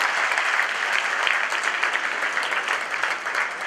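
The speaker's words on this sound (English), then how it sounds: "Give him a golf clap for the effort." A crowd gives a polite round of golf claps during a mentalist show, a soft, continuous patter of many hands that stays even and fairly close for a few seconds, with no talking.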